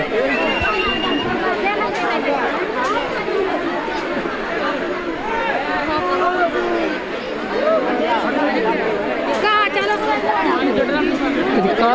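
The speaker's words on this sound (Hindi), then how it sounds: "भीड़ बहुत ज़्यादा है।" A thick crowd at a crowded religious fair lined with stalls, a constant loud hubbub of overlapping voices and chatter all around for the whole stretch.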